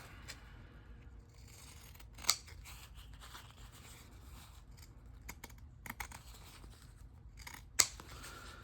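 Scissors snip through fabric washi tape with a couple of sharp, close cuts spaced several seconds apart, separated by faint rustling and small handling noises at low level.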